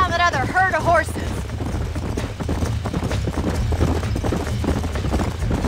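Horses trot in the Red Dead Redemption game, with a steady clip-clop of hooves carrying through the whole stretch, a brief whinny near the start, and voices and ambient sound layered over it.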